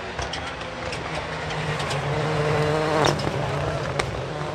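Rallycross cars, including a turbocharged Peugeot 208, racing at night at Dreux, engines rising in a building roar with sharp crackling pops and bangs from the turbo, heard from trackside.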